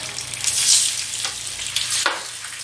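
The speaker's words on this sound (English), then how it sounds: "That wasn't a super satisfying sizzle" Hot oil sizzling and crackling around catfish fillets frying in a pan on high heat, a steady hiss with a couple of brief louder bursts, close and fairly loud with no talking.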